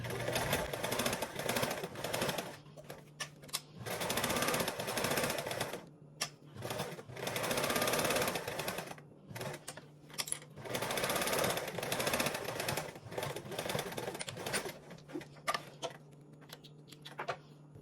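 Sewing machine basting two fabric pieces together for a bag: rapid mechanical stitching bursts that start and stop repeatedly, close and steady, with short pauses between runs.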